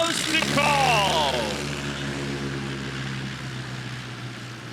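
A propeller airplane at a STOL competition drones loudly near the start as it lands, its engine pitch sweeping down before settling into a steadier, fading hum.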